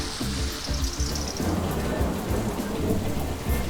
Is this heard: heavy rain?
yes